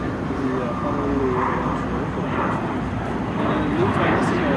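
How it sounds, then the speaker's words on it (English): An S-3B Viking jet with quiet high-bypass engines flies an airshow demo at Andrews AFB in 2005, a broad steady jet roar that swells and fades, while an announcer talks over it. "have the ability to sneak up on an enemy with those quiet, high bypass engines"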